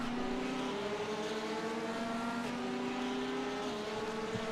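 Nissan GTR race car engine in a racing video game, droning steadily and loud throughout with rising and shifting gear tones, alone without talk.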